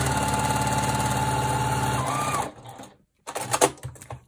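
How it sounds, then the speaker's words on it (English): A sewing machine runs steadily while stitching a quarter-inch seam on long red fabric strips for a scrappy heart quilt block, then stops, leaving a brief silence and some handling clatter. "I'm sewing 1/4-inch seam."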